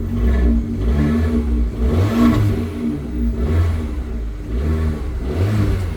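A Fiat 500 Abarth engine revs up and down repeatedly, loud and close, rising to a strained whine and dropping back in a rhythmic cycle.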